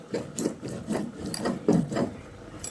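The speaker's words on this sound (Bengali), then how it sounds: "চাল ও জিরেটাকে মিহি করে বেটে নেব। চাইলে আপনারা এটা মিক্সিতেও বেটে নিতে পারেন, তবে এটা যেহেতু পরিমাণে কম তাই আমি শিলে দিয়ে বেটে নিচ্ছি।" Rice and cumin ground by hand on a stone slab, a rhythmic rasping scrape repeating about twice a second, close and distinct with no talking.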